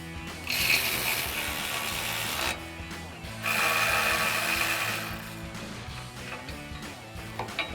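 A ratchet turns a 14mm swivel socket on grille guard bolts in two close bursts of rapid clicking, each lasting a couple of seconds, followed by quieter handling noises.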